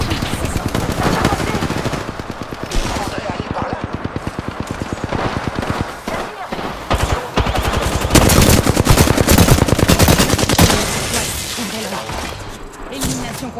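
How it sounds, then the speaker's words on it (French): Rapid automatic gunfire from the shooter Apex Legends rattles in long, dense bursts, loud and close, with brief pauses, while a voice speaks intermittently underneath. "Ces andouilles me tirent dessus."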